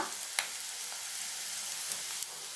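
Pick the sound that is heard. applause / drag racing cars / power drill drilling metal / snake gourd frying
snake gourd frying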